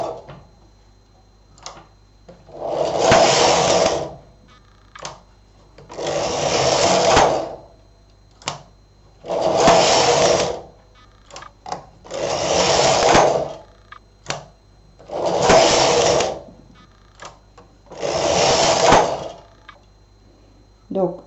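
Silver Reed SK 280 knitting machine carriage swept back and forth across a row while knitting tights, six distinct loud whooshing, clattering passes in a regular rhythm, with small clicks between them.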